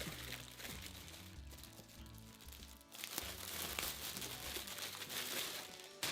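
A plastic bag from a brand-new RC car package crinkles and rustles as it is handled and unpacked, with a steady close crackling that grows louder halfway through.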